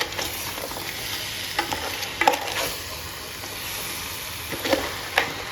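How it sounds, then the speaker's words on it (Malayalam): Crab curry stirred in a pan, a steady hiss of sizzling broken by scattered scrapes and knocks from the spoon, close by with no voices. "അപ്പോൾ ഒന്ന് നല്ലോണം ഇളക്കി കൊടുക്കണം."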